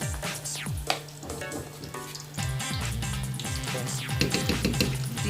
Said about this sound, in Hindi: मीडियम पे आपने जो है इसको फ्राई करना है।